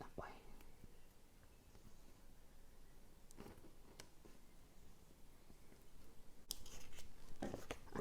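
A craft knife slices through a paper pattern in a few sharp, brief scraping cuts spaced across a quiet room, faint and close, with soft background noise.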